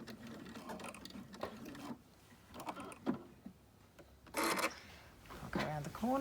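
A quilting sewing machine stitching around the corner of a quilt, heard as short bursts of fast mechanical whirring and clicking between pauses, with a person talking over and between the runs.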